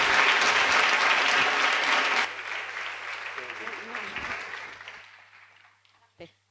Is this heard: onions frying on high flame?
no